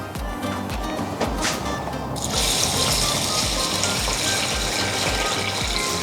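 Water runs and splashes into a pot of rice, the flow steady and close, growing brighter and fuller partway through.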